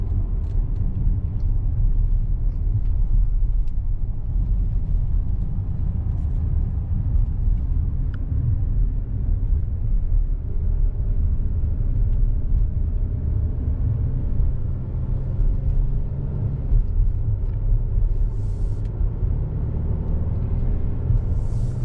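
A 2021 Volvo XC90 T6 AWD SUV accelerating around a roundabout, heard from inside as a steady, loud low engine and road rumble that holds unbroken throughout with no talk.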